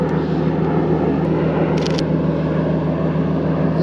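Steady, loud drone of an airplane passing overhead during an outdoor car photo shoot with a pair of stanced Nissan 350Zs, the engine rumble filling the whole moment with a couple of faint clicks.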